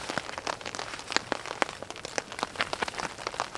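Rain patters on a tarp at a wet winter campsite, a dense stream of quick close taps and crackles varying in loudness, with no talking.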